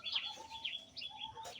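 Birds on a farm with pigeons and chickens, heard as scattered chirps and calls at moderate distance, with no talk.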